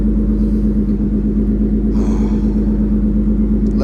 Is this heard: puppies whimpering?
no